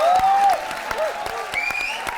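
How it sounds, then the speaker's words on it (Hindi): Studio audience applause on a SAMAA TV talk show as a guest is welcomed to the stage, steady clapping throughout with whistle-like tones over it, fairly loud and close. "आप लोगों की भरपूर तालियों में, आप लोगों की मोहब्बत के साथ अली भाई को कहूंगा आए तशरीफ रखें"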